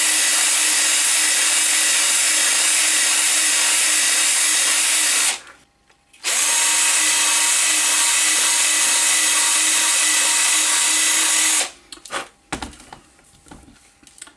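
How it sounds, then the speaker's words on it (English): A power drill bores a hole through a bench top panel in two loud, steady runs separated by a brief pause, followed by a few clicks and knocks as it stops. "When drilling out a hole with the drill, I put it backwards."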